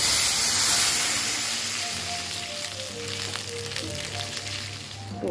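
Water poured into a hot pan of pumpkin greens tempered with five-spice and dried chili, bursting into a loud steamy hiss that settles into a steady, softer sizzle of frying.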